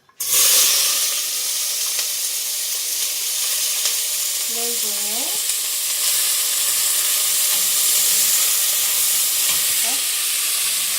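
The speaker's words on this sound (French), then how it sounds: "quand l'huile elle est chaude, on met nos oignons" Onions dropped into hot oil burst into a loud, continuous hissing sizzle that holds steady and close for the whole stretch, with a brief faint clink of utensils midway.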